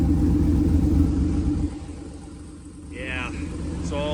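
Deep, steady exhaust rumble from a truck with a 6.0 Vortec V8 and Flowmaster mufflers, loud and continuous at first and then easing back to a lower idle drone, with a brief voice near the end.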